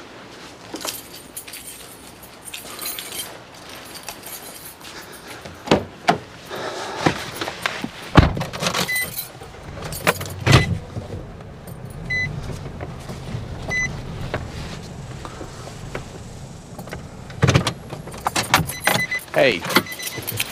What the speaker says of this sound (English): I want to move my truck